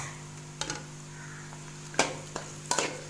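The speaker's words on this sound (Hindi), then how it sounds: "अब इसमें हम प्याज डालेंगे। बिस्मिल्लाह। घी हमारा काफ़ी गर्म था। इसको हल्का हल्का सा ब्राउन कर लेंगे।" Onions go into very hot ghee to be browned, with a soft steady sizzle broken by a few sharp clanks and scrapes of a spoon stirring the pan.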